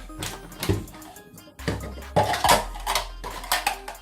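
Wet ingredients for seitan meatballs, including liquid aminos, being mixed in a bowl, with close clinking and scraping of a utensil against the bowl in irregular bursts, pausing briefly around one and a half seconds.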